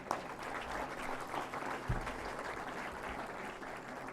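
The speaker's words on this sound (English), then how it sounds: "I think he deserves a lot of applause" Audience clapping for a student at an Engineer's Day event, a steady crowd applause at moderate distance with a few sharper claps standing out.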